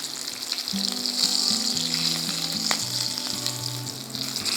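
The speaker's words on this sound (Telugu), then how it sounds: "అటు కూడా వేగి రెడీ అయిపోతాయి" Green chillies sizzle in hot oil in a pan, giving a steady, close, crackling hiss with a low hum beneath and the odd faint stir.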